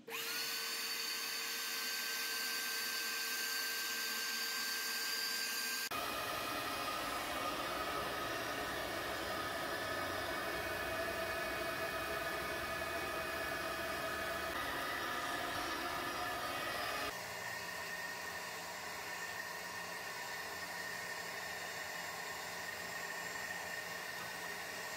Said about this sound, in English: So I got a El Cheapo shop vac, and we'll see how much we can clean up.